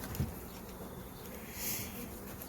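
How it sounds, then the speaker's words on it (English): Honeybees humming softly at an open beehive during an inspection, a faint, steady buzzing drone with a brief nearby flyby and a small knock at the start. "So this colony's got a lot of bees, all jammed up in the upper super."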